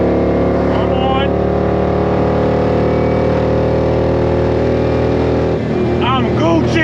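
Stock small-block Chevy Vortec with headers, cold air intake and electric fan, revving hard in third gear on a chassis dyno, a loud sustained engine roar with rising tones and a voice briefly cutting in near the end.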